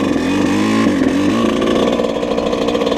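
A Yamaha YZ125 two-stroke dirt bike with a new Vertex piston and ring during break-in, its engine droning steadily and close, with pitch shifts as the rider works the throttle throughout.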